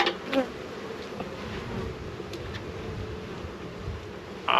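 Honey bees buzz in a steady, close hum around an open hive during an inspection, with a few brief knocks and rustles over the continuous drone and no talking.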